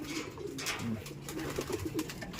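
Racing pigeons coo softly and repeatedly at close range, low throaty calls overlapping in a steady murmur.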